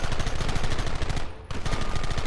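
Sustained rapid gunfire from a Red Dead Redemption shootout, loud and dense bursts of repeated shots with a brief dip midway before the volley resumes, no speech.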